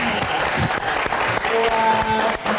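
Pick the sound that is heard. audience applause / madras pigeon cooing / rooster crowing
audience applause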